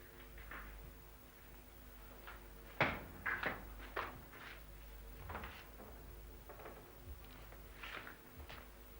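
A door or cupboard being opened indoors during a tense confrontation, heard as a cluster of sharp wooden knocks and latch clicks around the middle, with softer handling noises before and after; no one speaks.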